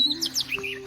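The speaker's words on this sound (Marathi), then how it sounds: "आणि पाखरांचा आवाज," Birds chirp and tweet in a quiet Konkan village, several short bright calls in quick succession over a faint steady hum, close and clear with no one talking.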